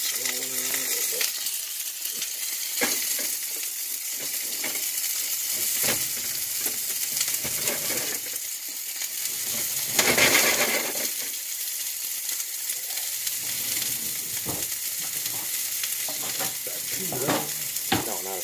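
Steak sizzling in hot grease in a pan, a steady crackling fry with scrapes and clinks of stirring and a brief louder burst midway, while someone talks intermittently over it.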